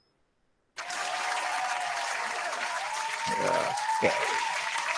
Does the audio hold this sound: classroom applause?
yes